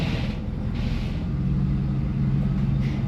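A C4 Corvette with a newly installed 4L60E transmission drives under its own power, giving a steady low engine rumble and road drone from inside the car, with a few faint higher swishes.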